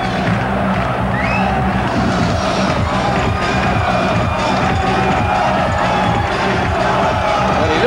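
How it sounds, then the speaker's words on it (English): A packed, standing boxing arena crowd at a world title fight roars and cheers continuously, a dense wall of voices close and loud with a commentator speaking over it. "A fantastic crowd here."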